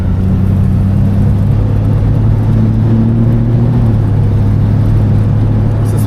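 A 1972 Oldsmobile Cutlass cruises along a road at about 25 mph, its engine a loud, steady low rumble heard from inside, with a gear or rev shift partway through.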